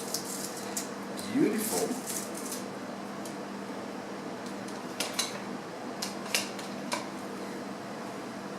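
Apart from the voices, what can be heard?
cutting scallions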